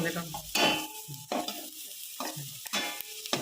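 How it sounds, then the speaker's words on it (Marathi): Onion sautéing in a pan while being stirred, a soft sizzle under repeated scraping strokes of a spoon against the pan, close by. "आता कांदा काय परतून टाका"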